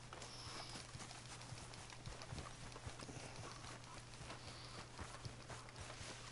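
Horse hooves gallop at a steady, rapid clip-clop in the Red Dead Redemption 2 video game, running continuously under a constant low engine-like hum with no voices.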